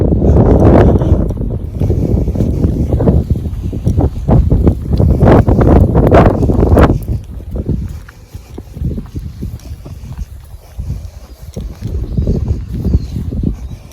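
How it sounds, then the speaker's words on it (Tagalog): Steady cold wind outdoors outside a UK polling place buffets the microphone with a loud, rumbling roar that eases a little partway through, with rustling noise throughout. "Medyo mahangin. Malamig yung hangin eh."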